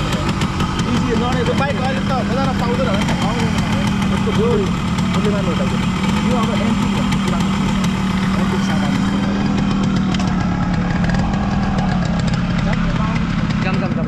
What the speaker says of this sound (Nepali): पहिल्यैदेखि यो 34 वर्ष पुरानो छ त्यो बाइक